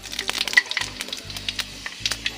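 Spices crackle and sizzle as they drop into hot oil for tempering, with a steady frying hiss and scattered sharp pops close by, and no talking.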